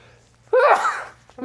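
A single sudden sneeze from a person close by, sharp and loud at onset and trailing off over about half a second, with a faint low hum underneath and a brief voice after.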